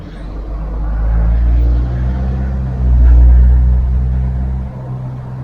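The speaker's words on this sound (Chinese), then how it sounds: "这是小镇的公交车，还是不少人在乘坐。" A small-town public bus in Wolfville, Nova Scotia, rumbles past with a low, loud engine drone that swells, eases, then swells again as it moves nearby.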